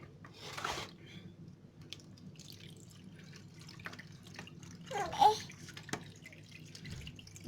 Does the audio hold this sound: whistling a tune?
no